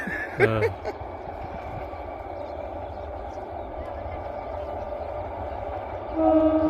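A train passing near a land plot by a railway station, a steady distant rumble of rolling wagons with a horn-like tone near the start and speech over the noise.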